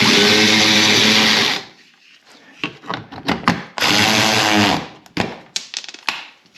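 An impact wrench whirs loudly in two long bursts tightening bolts on a 2013 Mazda CX-5 lower control arm, with metallic clanks and rattles of tools between them and no talk.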